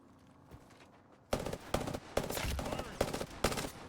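Gunfire in the Apex Legends battle royale game: after a quiet opening, loud sharp shots crack out in a steady string of bursts, close and punchy, with no talk over them.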